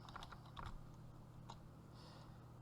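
Keys on a computer keyboard are typed in a short, quiet burst of close clicks, then a few scattered taps, with no talking.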